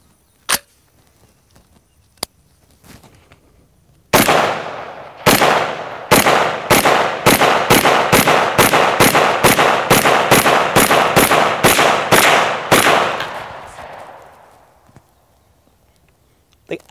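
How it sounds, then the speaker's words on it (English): Rapid volley of about twenty loud AR-15 rifle shots fired at watermelons, sharp evenly spaced cracks from a Houlding G2L carbon fiber rifle following a few isolated pops, the echo trailing off into quiet. "let me show you what these rounds do to melons."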